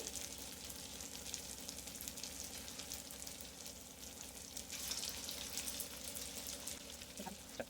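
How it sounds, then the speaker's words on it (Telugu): Sweet corn garelu (mokka jonna fritters) frying in hot oil, a steady dense sizzle and bubbling that runs the whole time at moderate level, with a few faint clinks near the end. "మన గారెలని గోల్డెన్ బ్రౌన్ కలర్ వచ్చేసేపు ఆయిల్లో వేపుకోవాలి."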